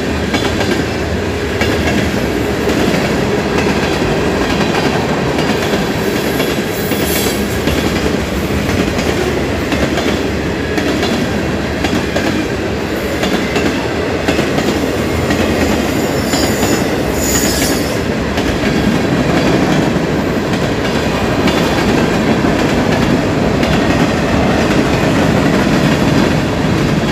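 A freight train rolls steadily past in Folkston, Georgia. The loud, continuous rumble and rattle of railcars goes on without a break, with clickety-clack from the wheels and occasional high squeals.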